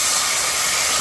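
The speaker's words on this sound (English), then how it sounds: "you hear that sizzle? That's the sound of the water" A loud, constant hiss of water sizzling in a hot pot with pig tails, no oil, broad and steady for the whole moment with no voices.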